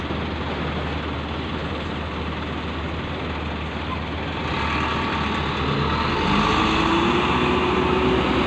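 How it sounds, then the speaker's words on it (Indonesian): A 125 PS diesel truck rolls aboard a ferry at Merak port, its steady low engine rumble swelling louder toward the end as it draws near, with ambient harbor noise behind. "Ini pertama masuk ini ada truk diesel"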